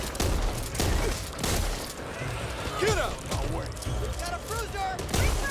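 Shotgun blasts in Back 4 Blood, fired repeatedly in irregular bursts with sharp loud cracks, mixed with game effects and a voice talking over the action.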